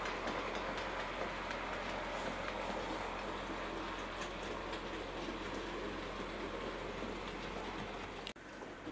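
A Hornby Class 08 model shunter locomotive runs along the track with a steady faint mechanical whir and rumble, continuing evenly with a small knock near the end.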